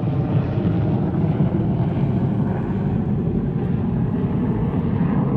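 A B-21 Raider strategic bomber flies past, producing a loud, steady, deep jet rumble that holds throughout without any voices.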